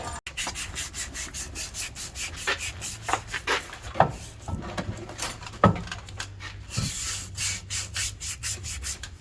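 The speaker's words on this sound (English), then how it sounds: "we're going to take that to the shop and emery cloth that real quick" Emery cloth rubbed by hand over a rusty drive shaft end from a Jeep Dana 44 rear axle, a steady back-and-forth scraping in close, rhythmic strokes with no talk.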